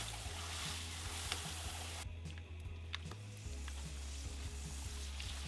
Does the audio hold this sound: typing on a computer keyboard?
no